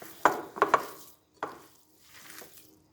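Minced beef seekh kebab mixture squelches and slaps as it is kneaded by hand, a few soft wet bursts with pauses between, close and quiet.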